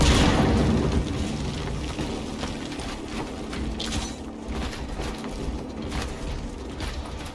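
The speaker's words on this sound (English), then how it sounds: "Frag grenade deployed" A frag grenade detonates in the video game Warhammer 40,000: Space Marine 2, a loud rumbling blast at the start that settles into a dense, sustained roar of battle noise.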